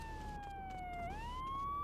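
Police car siren in the GTA 3 video game, a steady wailing tone that dips and rises again, heard alone at moderate level over a low rumble of game ambience.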